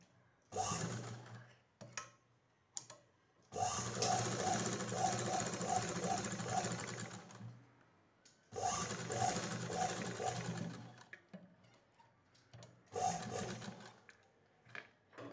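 Sewing machine stitching a blouse: two sustained whirring runs of several seconds each with a faint regular ticking, separated by short bursts and quiet gaps, close and fairly loud.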